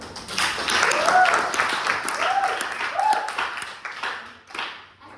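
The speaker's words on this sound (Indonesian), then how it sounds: "Tepuk tangan dulu." A class of students clap their hands together on cue during an ice-breaking activity at a school Betawi culture presentation, a dense burst of claps with a few voices and cheers mixed in, tapering off near the end.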